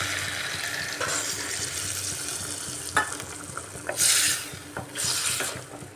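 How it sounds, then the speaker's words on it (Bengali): Hot water poured into a pan of fried spiced chicken curry with bottle gourd, a steady sizzle broken by stirring scrapes and two bursts of splashing, hissing water. "গরম জল দিয়ে দিচ্ছি।"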